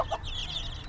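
Chickens clucking softly nearby, a short burst of low hen calls from a mixed flock of young birds.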